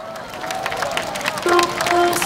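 An audience at a Korean concert claps and cheers as the next singer is introduced, a short burst of crowd applause mixed with sustained tonal sounds from the stage that swells in the second half.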